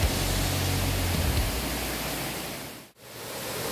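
Constant broadband rush of a waterfall on Moyo Island, Indonesia, dense and steady, cut by a brief dropout near the end.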